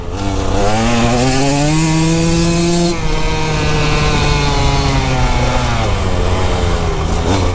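A KTM EXC 150 dirt bike engine revs hard and close, its whine climbing in pitch, then dropping back to a rough, steady growl.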